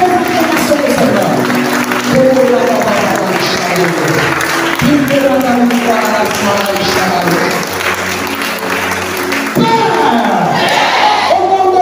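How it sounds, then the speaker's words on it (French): A church congregation during a midday prayer session shouts, cheers and claps in loud, overlapping acclamation, many voices rising and falling in waves for the whole stretch. "Donc les acclamations au Seigneur."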